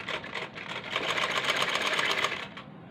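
A sewing machine stitching the sleeve seam of a kurti or kameez, a fast, steady mechanical whirring rattle that runs continuously at close range for nearly three seconds, then stops.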